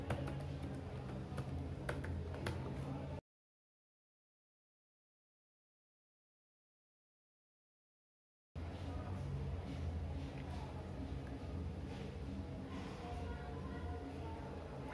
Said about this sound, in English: so just type in your password